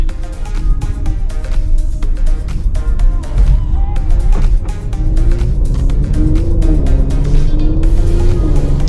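A 2017 Mercedes-Benz GLC 43 AMG fresh from a running-board install cruises at normal speed, its steady engine and road rumble continuous and close with rising gear tones, while people talk over it.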